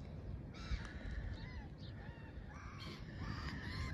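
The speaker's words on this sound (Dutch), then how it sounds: "En de meeuwtjes maken alweer ruzie." Gulls squabbling and calling near the sea, a run of harsh, cawing cries rising and falling over steady low wind and surf rumble, moderately close and loud throughout.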